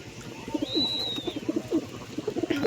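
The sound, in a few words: pigeons cooing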